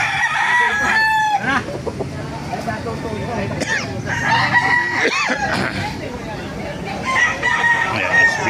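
Gamefowl roosters at a Baliuag market, including golden bulig birds, crow and cluck repeatedly over a busy crowd, with several loud nearby crows rising above steady chatter and people talking throughout.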